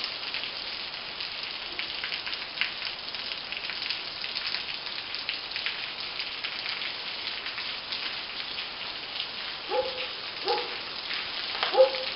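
Steady rain falls in the Rio Grande valley, a dense, even hiss throughout, with a dog barking a few times near the end.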